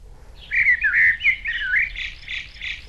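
A person whistles an imitation of a blackbird call: a run of bright, warbling chirps and trills for about three seconds, close and fairly loud, with no talk over it.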